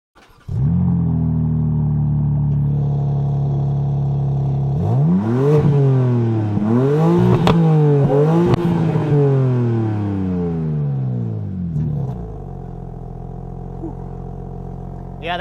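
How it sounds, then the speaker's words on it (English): 2022 BMW M3 Competition xDrive with a louder exhaust starting up, settling into a loud idle, then revved several times in rising and falling sweeps before dropping back to idle, close by with no talk. "That's the model that has slightly louder exhaust, so I'll go ahead and I'll fire that up so you guys can hear what it sounds like."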